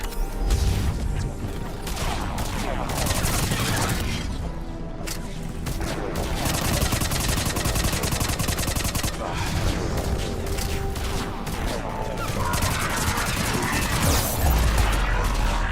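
SMG gunfire in Mass Effect 3: dense, rapid bursts of automatic fire mixed with impacts and explosions, loud and continuous throughout.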